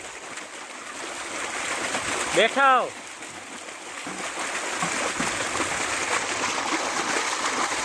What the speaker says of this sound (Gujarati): પાણી જાય છે ભાઈ ઘઉંમાં.